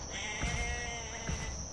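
A goat bleats in the video game Jurassic Park Operation Genesis, two short wavering cries about a second apart over a constant background hum, with no talking.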